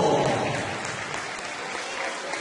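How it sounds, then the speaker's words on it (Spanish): An audience at a kindergarten performance in San Pedro de Lloc applauds the class of three-year-olds, dense clapping loudest at the start that then settles into steady applause, with a voice faintly heard beneath it. "Señoras y señores, fuertes aplausos para el aula de 3 años"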